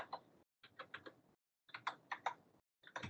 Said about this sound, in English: Come in, type the address,